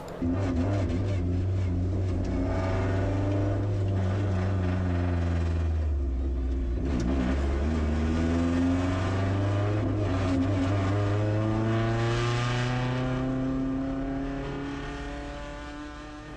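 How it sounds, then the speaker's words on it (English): Mazda MX-5 Cup race car engine on track, loud and close, revving hard through gear changes with rising and falling harmonic sweeps, sustained throughout with no voices. "As an audio reference, here's real life footage of an MX-5 Cup car."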